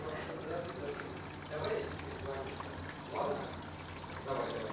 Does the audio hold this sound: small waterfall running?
yes